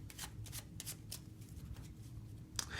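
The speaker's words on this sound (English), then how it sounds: "Next shuffle we're going to be getting into is the overhand shuffle" A deck of playing cards is shuffled overhand in the hands, a series of quiet, crisp riffling flicks in an uneven rhythm, close up and soft, without talking.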